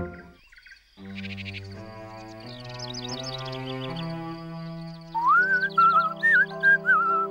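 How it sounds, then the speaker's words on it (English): A lively whistled tune rises and wavers in clear melodic phrases near the end, layered over a soft musical accompaniment with chirpy bird-like notes in a children's animated story. "You always did whistle a good tune"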